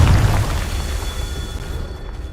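A Confringo fire spell explodes in Hogwarts Legacy, one loud close boom at the start that fades into a rumbling, crackling tail.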